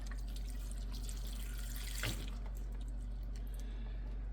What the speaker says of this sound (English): The rest we're gonna fill up with water.